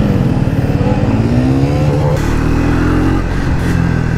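A Bajaj Triumph 400cc motorcycle on a ride sends a loud, close engine drone with a steady throbbing exhaust note and a slight rise in revs, heavy wind rush mixed in throughout.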